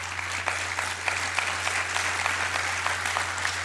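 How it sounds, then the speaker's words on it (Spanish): An audience at a public policy forum breaks into steady, sustained applause, dense and continuous throughout, with a constant low electrical hum beneath it. "quiero que todos le demos un fuerte aplauso a Juan por su elección"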